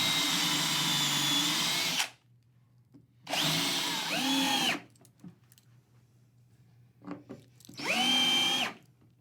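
Power drill driving fasteners into maple flooring boards near their edges, three loud whirring bursts of about two seconds each, with the motor pitch dropping as each one tightens, separated by near silence.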